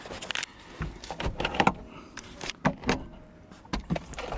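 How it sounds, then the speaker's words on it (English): A convertible soft top being lowered on a newly bought project car, with a series of mechanical clunks, latches and rustling movements in close, uneven bursts, no talk. "But let me put the soft top down."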